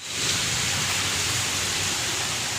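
Light rain drizzling outside a house in India during a flooding downpour that is easing off, a soft steady hiss of fine drops, faint and continuous.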